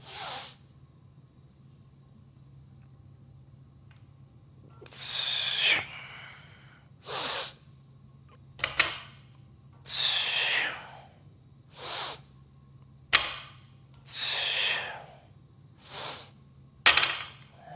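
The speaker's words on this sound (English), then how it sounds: "We're going to sniff in through the nose." A series of sharp nasal sniffs and breaths drawn in through the nose before a barbell deadlift, about nine short bursts at irregular intervals over a low steady hum.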